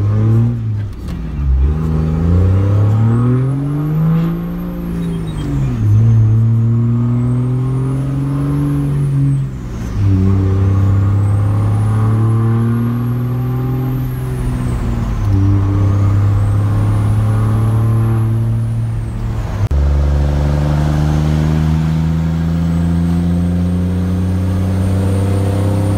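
A Cummins diesel pickup fitted with a bigger turbo accelerates hard several times, the loud engine climbing through the gears between shifts as the turbo whistles high above it, with no talk over it.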